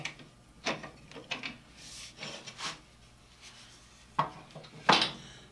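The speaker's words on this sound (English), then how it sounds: "I put some oil on the turnbuckle, and we'll see if we can get that to move now." An oiled turnbuckle on a saw is worked loose, giving a few sparse metallic clicks, scrapes and clanks, close and fairly quiet with gaps between them.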